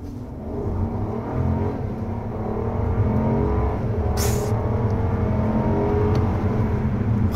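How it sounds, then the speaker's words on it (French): A Mercedes-Maybach S680 with its V12 pulls hard from a standing start, the deep engine note building steadily in a continuous, close surge with a brief higher whine partway through. "faut quand même que je vous fasse un petit départ arrêté"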